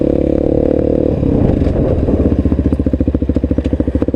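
A Voge 300 Rally motorcycle brakes hard from about 40 km/h on a quiet road at night. The loud engine drone drops and turns into a rapid, pulsing chatter as the ABS cycles, close to the microphone.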